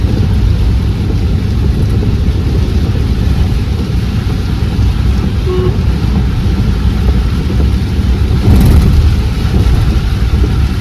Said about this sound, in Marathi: पाऊस कंटिन्यू चालू आहे